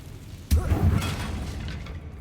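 A Confringo blasting spell in the Hogwarts Legacy video game lands as a sudden loud boom with a crackling, shattering burst that decays over about a second into a low rumble.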